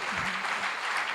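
Short burst of steady applause from a church congregation during a testimony service, dense clapping filling the room, brief and fairly loud.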